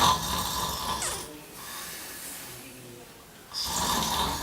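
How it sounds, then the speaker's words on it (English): A person snores in loud, rasping breaths, one long rattling snore at the start and another building at the end with a quieter stretch between, close and alone. "If you or your sleep partner snores"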